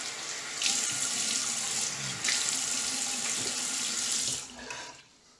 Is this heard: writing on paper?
no